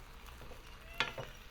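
Mutton bone curry stirred in a pot, a quiet simmering bubble with one brief clink of the spoon against the pot about midway, soft and close in a short moment without speech.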